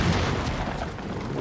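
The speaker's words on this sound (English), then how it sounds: "Because the explosions came at pretty quick intervals." A deep, heavy boom from an explosion in Ghost of Tsushima, likely a catapult fireball, a single rumbling blast that rolls on briefly at close range.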